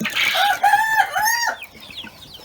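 Barbudan-breed chickens and a rooster in a coop cluck and call loudly and close, with drawn-out harmonic squawks over the first second and a half before fading to softer clucks.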